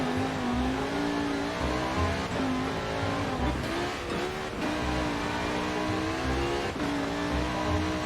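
A Lamborghini in Forza Horizon 4 driving fast over snow, its engine droning loudly and steadily at high revs with small pitch shifts as it shifts and holds speed.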